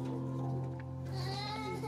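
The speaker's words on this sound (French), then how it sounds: "Comme des moutons." A sheep bleats with a drawn-out, wavering cry, moderately close and fairly quiet, stretching for nearly two seconds.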